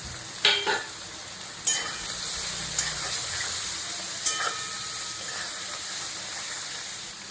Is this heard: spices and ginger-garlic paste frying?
yes